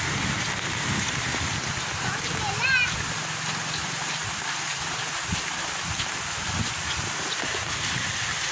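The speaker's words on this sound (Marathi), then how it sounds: "आज पाऊस बऱ्यापैकी पडतोय मुसळधार पाऊस" Heavy monsoon rain falls steadily on a Konkan village, a continuous dense hiss of drops with occasional splashes, steady and fairly loud throughout.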